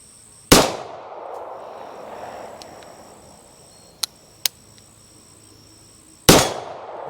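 Two sharp, loud pistol shots from an IMI Jericho 941F ring out several seconds apart at an outdoor range. Between them come faint metallic pings of rounds striking a distant steel target, over quiet background with no talking.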